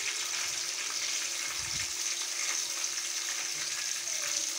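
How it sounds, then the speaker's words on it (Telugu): Green chillies frying lightly in a pan for a tomato chutney, giving a steady, continuous sizzle with faint stirring, close and moderately loud, with no talking. "కొంచెం లైట్గా వేయించుకోవాలి."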